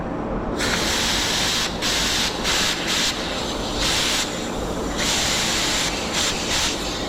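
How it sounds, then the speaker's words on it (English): Compressed air blasts hissing loudly in bursts of varying length against a sprayer part, several sharp spurts separated by short pauses, close and without talk. "Blow it up with air, push itself off and then lift it off."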